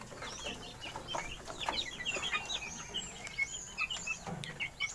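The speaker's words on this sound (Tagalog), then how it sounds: "may sisiyo pa tayo" Chickens and small chicks in a homemade coop, soft clucks and high peeping chirps scattered continuously at a moderate distance, fairly faint with no talking.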